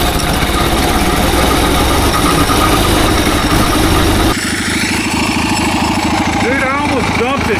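A turbocharged, generator-engine-powered four-speed mini bike running, its loud rumbling engine drone holding steady then shifting abruptly in pitch partway through, with voices over it.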